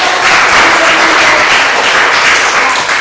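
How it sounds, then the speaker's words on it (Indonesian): Dense, steady clapping from a group fills the whole stretch, loud and continuous without pause. "Oke, tepuk tangan."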